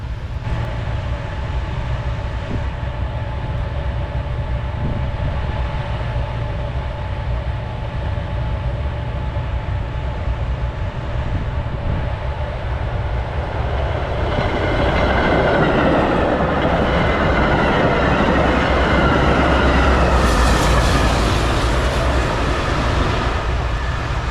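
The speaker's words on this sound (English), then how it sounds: "Powered Metra train in the snow" A Metra commuter train on the BNSF line passes during a snowstorm. A distant rumble builds into a loud, close roar with rhythmic clickety-clack and a rising whine in the last third.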